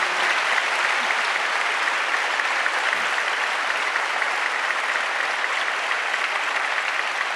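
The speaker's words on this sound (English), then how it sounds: "you deserve another very big round of applause from everyone" Sustained applause from a large audience after an orchestra performance, a steady wash of clapping that holds at the same strong level from start to finish.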